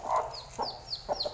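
Country chicks in a brooder make a few soft, quick clucks and high peeping chirps, close and fairly quiet, spaced in short bursts with no talking.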